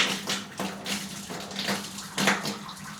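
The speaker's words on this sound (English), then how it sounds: "Water is flowing." Running water pours from a tap in uneven gushing surges, close and fairly loud, with a low steady hum underneath and no talking.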